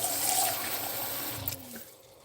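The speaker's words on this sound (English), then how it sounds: "I'm gonna grab more water here." Water runs and trickles steadily into a container during meal prep in a kitchen, fairly close, with the flow fading out near the end.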